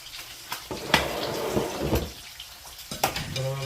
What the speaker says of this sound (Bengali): এই যে হচ্ছে আমাদের মাছ ভাজা অলমোস্ট ফ্রাই হয়ে গেছে